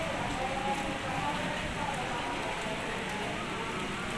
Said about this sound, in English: But it's a rainy day.